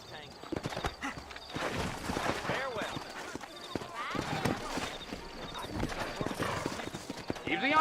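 Horses from Red Dead Redemption clip-clop steadily at a trot with occasional neighs and whinnies, close and continuous, while voices talk over the hoofbeats.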